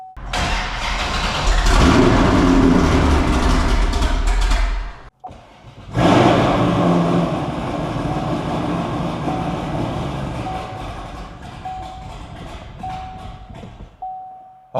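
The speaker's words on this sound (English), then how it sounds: "High compression 7-liter V8. Let's see if it starts up first try." A high-compression 7-liter V8 cranks and fires into a loud, rough idle that sputters and dies, then restarts and settles into a steady roaring idle that gradually eases off, with no talking.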